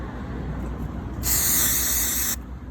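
Brake parts cleaner sprays from an aerosol can during car paint scratch repair, a single sharp hissing burst of about a second heard close over quiet background.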